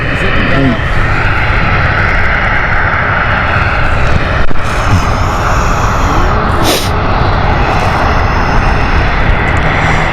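A China Southern airliner moving at Stansted Airport after pushback gives a loud, continuous aircraft engine roar, with people talking over it.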